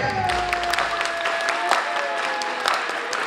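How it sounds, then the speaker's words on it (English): A crowd claps along to upbeat dance music at a charity prom night, steady rhythmic applause mixed with the music throughout, moderately loud and continuous. "Oh yeah, put those hands together!"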